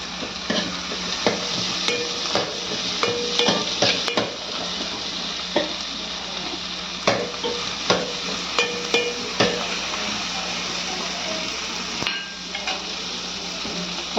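Tomatoes sautéing in a pan for mango fish curry, a steady close sizzle and frying hiss with frequent scraping stirs and light clinks of a spatula against the pan, no talking.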